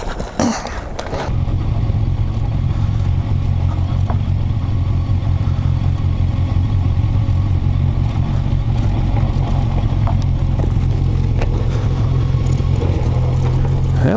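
A Kawasaki Versys 1000 motorcycle descending the Moki Dugway gives a loud, continuous low engine drone mixed with wind rush and occasional rattles, after a brief bump at the start.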